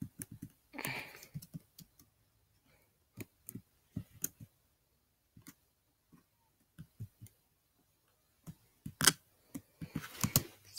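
A computer keyboard is tapped quietly up close, with sparse, irregular keystrokes and spacebar presses separated by pauses, ending in a brief flurry of louder clicks.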